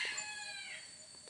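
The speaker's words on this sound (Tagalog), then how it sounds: "dapat yung pangati mo talaga pampatagalan talaga yung tilaok" A rooster crows once, a long drawn-out call that fades gradually, heard fairly clearly without other voices.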